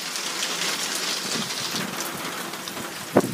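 Steady rain patters on a surface, a continuous soft hiss of drops, with one sharp tap near the end.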